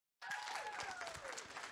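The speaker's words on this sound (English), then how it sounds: "Round of applause, please." An audience breaks into applause at an NYU alumni conference, hosted live from Washington Square. Dense, sustained clapping starts abruptly after a moment of silence and carries on evenly to the end.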